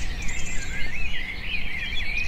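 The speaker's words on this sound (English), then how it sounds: "Pigeon" A bird calls continuously in a documentary scene, a thin high wavering chirp running steadily throughout over a low ambient rumble, with no speech.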